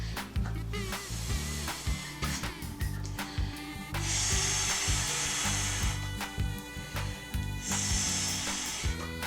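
Breath is blown through a straw into a balloon toy, heard as close, rough gusty puffs with brief hissy bursts and rustling handling noise between them, with no talking.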